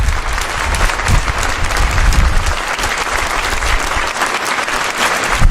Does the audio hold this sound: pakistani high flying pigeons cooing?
no